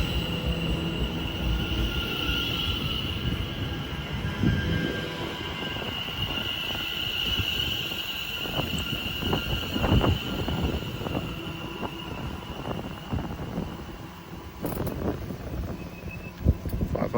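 A Greater Anglia Class 720 electric unit, 720 119 leading, working the London Liverpool Street to Ipswich service at Shenfield on the Great Eastern Main Line, rumbles steadily through with a long, continuous roll and intermittent wheel squeal and clatter.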